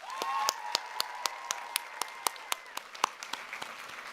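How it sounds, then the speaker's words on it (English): Applause from the audience at the 2023 North Carolina 4-H Congress, heard as a quiet, thinning patter of distinct claps spaced at a fairly steady rhythm over roughly four seconds. "applause."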